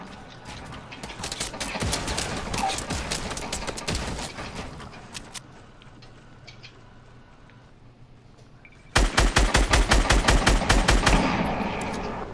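Rapid video-game gunfire crackles in dense automatic bursts, a long volley fading into quieter mechanical clicks before another loud, fast burst erupts near the end.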